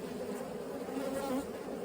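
A honey bee colony being shaken out of its hive gives a brief, steady, faint buzzing hum from many bees, with no other sounds.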